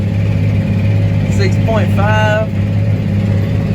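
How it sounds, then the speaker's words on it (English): A John Deere 8420 tractor engine drones steadily and loudly at a constant pitch while the tractor is steered during peanut land preparation, with someone talking briefly over the engine noise. "As you can see, I'm steering the tractor"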